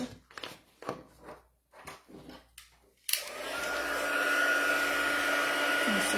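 An electric heat tool switches on and blows a steady, loud whoosh for several seconds, drying ink on paper after a few soft handling clicks and taps.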